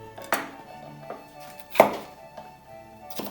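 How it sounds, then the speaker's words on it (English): A sharp knife chops green chillies on a board in sparse, irregular single strikes, one louder clack standing out, fairly close and quiet with no talk. "I'm chopping these up with a really sharp knife."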